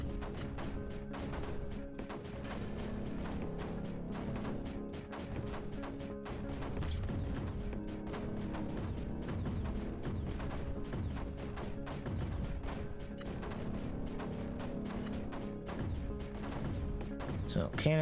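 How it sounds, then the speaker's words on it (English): Mortars and cannons fire in the strategy game Creeper World 4, a dense rapid barrage of sharp blasts and thuds layered over sustained game music, continuous and busy throughout. "So mortars will fire at the most dense area."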